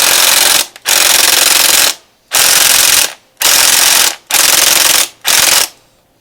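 Impact wrench on a bolt of a Yamaha YZF600 Thundercat motorcycle, loud and close, firing in five long rattling bursts separated by brief pauses.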